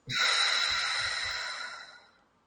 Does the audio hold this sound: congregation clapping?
no